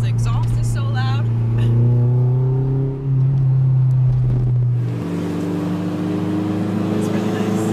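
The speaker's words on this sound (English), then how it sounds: "Can't even hear me because the exhaust is so loud." Loud car exhaust drones and revs steadily outdoors, its low rumble dropping in pitch partway through, with a person talking over it throughout.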